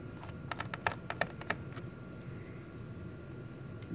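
A Phillips #1 screwdriver takes small screws out of a Dell Inspiron N5110 laptop: a short cluster of faint, close ticks and clicks, then only a low, steady background hiss.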